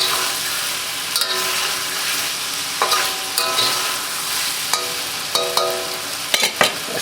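Chicken browning in a wok for bourbon chicken, giving a loud, continuous close sizzle broken by scraping stirs and clanks that grow busier toward the end, with no talking.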